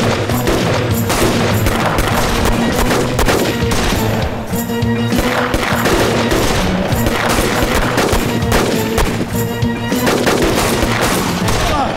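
Sustained bursts of rapid gunfire crackle throughout, overlapping volleys close and loud with no pause, like a fusillade of automatic weapons.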